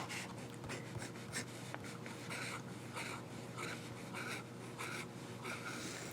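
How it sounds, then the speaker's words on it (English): Fountain pen nib from an Opus 88 scratching across paper up close, a soft continuous scritching with faint stroke bursts and a low background hum, no voices. "The nib, as you can hear, wasn't scratchy, just a bit noisy."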